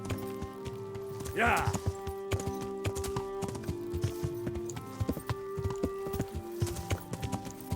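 Horse hooves clip-clop steadily in the video game Kingdom Come: Deliverance, a continuous rhythmic trot with a brief whinny near the start, set against in-game ambience and background voices.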